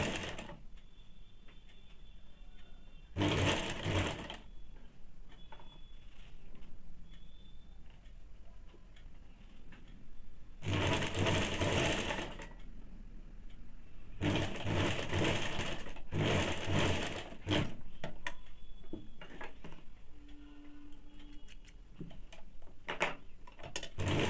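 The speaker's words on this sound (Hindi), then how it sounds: "फिर इसको इस प्रकार से पकड़ के 1/2 इंच पे सिल लेंगे।" A sewing machine double-stitches a blouse seam at half an inch, running in several short loud bursts separated by quieter stretches of handling and faint ticking.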